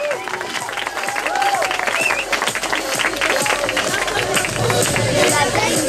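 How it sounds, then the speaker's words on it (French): Crowd applauding and cheering at an outdoor zucchini car race event, a broad, sustained roar of clapping and voices with music and chatter in the mix. "on va vous demander une bonne main d'applaudissement pour cette vague-là"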